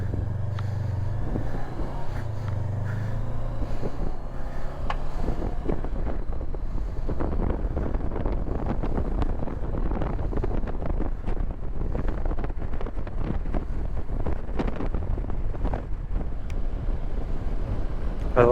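Steady wind buffets the microphone during a motorcycle ride alongside the St. John River in New Brunswick, a continuous low rumbling roar with gusty flutter throughout.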